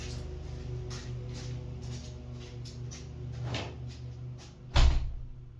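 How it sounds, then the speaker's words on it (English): An insulated basement door swings shut with one loud, close thud near the end, over a steady low mechanical hum in the house. "I think I'm going to go close this door so you can hear me."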